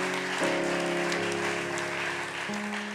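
A church congregation applauds and acclaims the Lord together, a dense wash of clapping that stays steady and loud across the moment while sustained musical tones from an organ or keyboard ring underneath.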